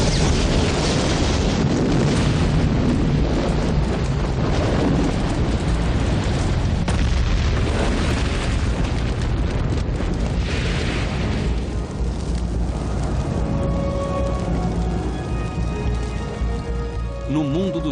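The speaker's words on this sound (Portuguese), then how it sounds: "Mais de 100 mil são aniquilados em uma única explosão." A huge roaring blast rumbles continuously, loud and dense, with crackling bursts and a gradual fade toward the end.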